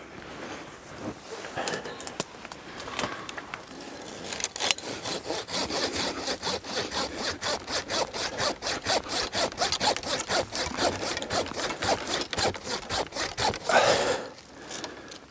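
Hand saw cutting through a tree branch during old fruit tree pruning, a long run of steady, rapid rasping strokes, close and loud, with no talk.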